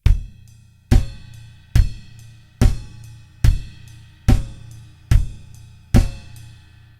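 A drum kit lays down a steady four-on-the-floor kick with a snare backbeat on 2 and 4 and cymbal on top, played in a pop-funk groove. Eight evenly spaced loud hits ring out close with no talking.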